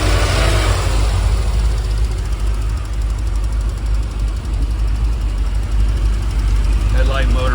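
A stock, unmodified C4 Corvette engine runs steadily at idle, loud and close, with a constant low rumble throughout and no clear rise in revs.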